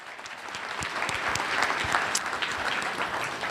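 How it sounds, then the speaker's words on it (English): Audience clapping steadily at a university innovation challenge awards ceremony, a dense, sustained round of applause from a sizable crowd with no talking over it. "Another round of applause."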